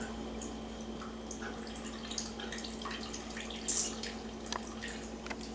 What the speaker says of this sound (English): I'm going to juice the orange